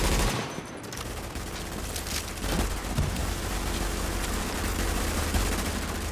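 Dense, continuous gunfire from the video game Tom Clancy's The Division fills the scene as a loud, sustained barrage of overlapping shots during a two-versus-two match, with no pause in the shooting.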